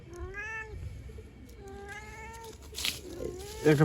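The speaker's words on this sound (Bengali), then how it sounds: "জোরে মিয়াও গো, মিয়াও গো" A cat meows twice in drawn-out, wavering calls, fairly close, followed by softer rustling and a brief louder noise at the end.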